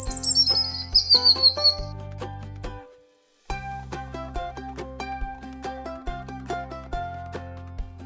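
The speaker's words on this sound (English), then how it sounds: "That's right, I'm a bird." Bright bird chirps sound early, layered over steady melodic background music with a brief silent gap midway, as in a children's animal-guessing sound effect.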